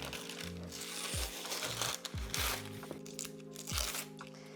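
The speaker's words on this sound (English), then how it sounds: "And then remove the paper." Baking paper being peeled and crinkled off a slab of hard homemade honeycomb toffee just turned out of a loose-bottomed tin, giving close crackling and crunching bursts over a steady background hum.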